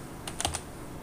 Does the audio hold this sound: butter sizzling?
no